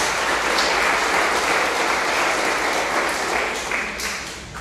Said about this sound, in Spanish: Denle un aplauso a la palabra de Dios.